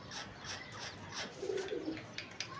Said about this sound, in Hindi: आज कबूतर बैठ रहे हैं बड़े कबूतर